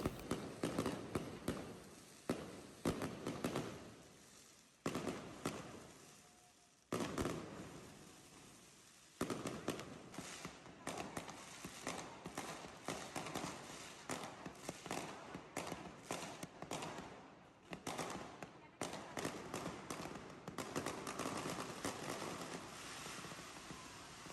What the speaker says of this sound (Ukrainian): пускали салюти, тобто не тільки там, де я стояла, а ще й на іншому перехресті вулиці, тому можна спостерігати дуже багато салютів